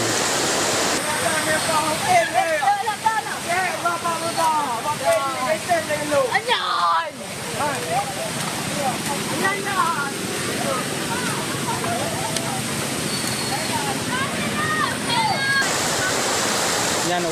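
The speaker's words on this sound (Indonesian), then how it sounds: "Beginilah detik-detik banjir dan longsor yang membawa material lumpur dan bebatuan di kawasan Kecamatan Tangse" A flash flood and landslide in Tangse district carries mud and rocks, producing a continuous heavy roaring rush of water, while a person speaks over the torrent throughout.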